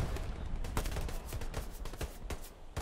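Machine gun fire in the WWII battlefield game Hell Let Loose crackles as rapid, loud shots in dense repeated bursts, with near and distant gunfire overlapping and no talking.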